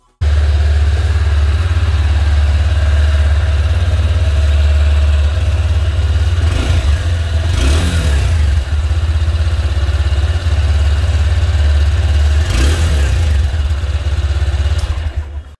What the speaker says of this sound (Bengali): তো এত কিছু বললাম, আর বাইকের এক্সস্ট নোট শোনাবো না,